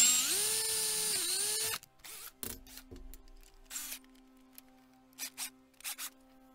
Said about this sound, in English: Now this auger is actually an inch hole, so we'll drill it till it gets all the way through.